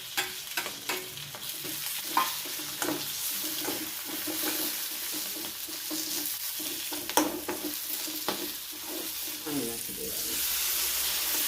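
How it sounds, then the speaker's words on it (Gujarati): Green chillies fry in a pan for a chilli curry, giving a steady, soft sizzle through the whole clip. Scraping stirs and small clinks sound on top, and a voice speaks briefly. "આવી રીતે મરચાં બધા તળાઈ જાય"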